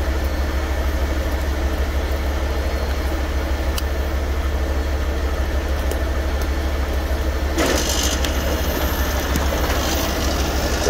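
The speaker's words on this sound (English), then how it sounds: "Pump is going." A fuel tanker pump runs with a loud, steady mechanical drone and rumble, close and continuous, with a brief burst of rattling noise toward the end.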